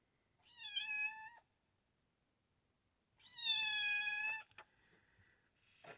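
A kitten meowing to be picked up, two loud, drawn-out, high cries close by, the second longer and followed by a few small squeaks; no speech.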